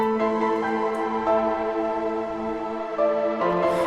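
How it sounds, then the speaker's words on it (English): A sustained synth piano from an original Nexus preset holds soft chords that shift a few times, smooth and close with no talking over it. "So my piano originally sounded like this"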